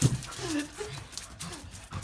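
A person imitates a dog during an animal guessing game, a short voiced dog-like whine and yip sound close up, mixed with other people talking.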